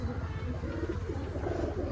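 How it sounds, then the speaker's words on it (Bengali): Low, soft cooing of pigeons repeats steadily at close range, a murmuring throaty sound. "এই যে দুইটা কবুতর শাউন ভাইয়ের এটা খুব ভালো মানের কবুতর"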